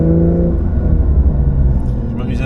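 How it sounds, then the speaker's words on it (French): Porsche 911 Dakar flat-six running with its sport exhaust open out in the desert dunes, a loud, steady low rumble with a droning tone that stays close and continuous throughout. "Je m'amuse un peu avec l'échappement sport pour écouter la différence"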